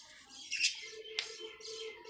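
Newly adult Mundeyan pigeons in a loft on a farm, with soft fluttering and scuffling bursts, one sharp wing-flap or click, and faint low calls, all quiet and close.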